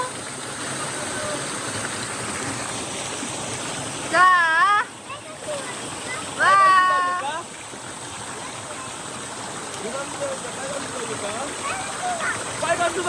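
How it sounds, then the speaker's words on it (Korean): A valley stream rushes and splashes steadily throughout on a hot summer day, with two short bursts of voices talking over it. "자, 시원한 물소리 들리시죠?"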